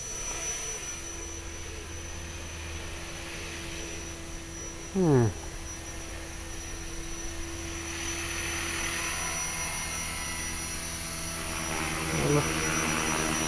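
Radio-controlled HK 450 helicopter flies outdoors, a steady whining rotor drone running throughout at moderate distance, with a brief rising sweep partway through and a fainter one near the end.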